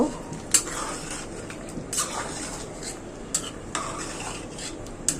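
A spoon stirs beef and pumpkin curry in a pot just after cumin powder goes in, with scraping clinks against the metal at uneven intervals over a low simmering sizzle.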